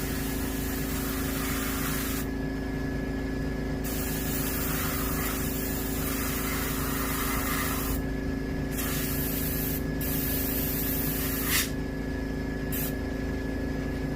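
An airbrush or spray gun hisses steadily while paint goes onto a striped bass skin mount, a continuous close spray with a faint hum beneath, broken by a few brief pauses, with no talking.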